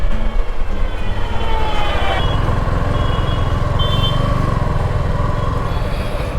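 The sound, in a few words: Suzuki V-Strom 250 motorcycle being ridden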